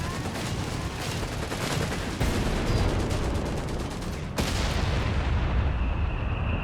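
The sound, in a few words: MG42 machine gun firing in Company of Heroes 3 video game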